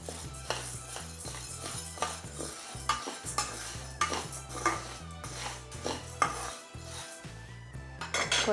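Dry sago pearls rattle and scrape as they are stirred and roasted in a pan, with busy clattering strokes, small metallic clinks and a faint sizzle, close and fairly quiet, no talking.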